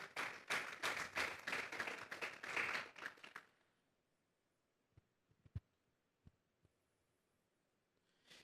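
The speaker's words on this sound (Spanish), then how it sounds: "Vamos a darle un fuerte aplauso pues al Señor." Church congregation clapping for several seconds, a dense burst of rhythmic claps that stops abruptly, followed by near silence with a few scattered taps and knocks.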